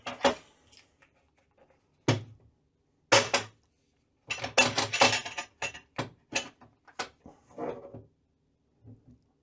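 An electric kettle being handled in a hotel room suite: a series of scattered clinks, knocks and plastic clatters, close and fairly quiet, with pauses of silence between bursts.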